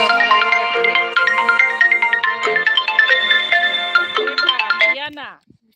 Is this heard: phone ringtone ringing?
yes